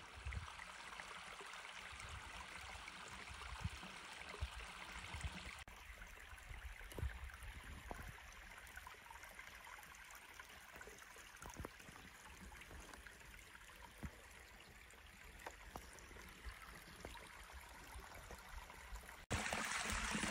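A small desert waterfall at an oasis near Oliver Lee Memorial Campground in New Mexico trickles steadily, a soft, continuous wash of water heard alone from close by.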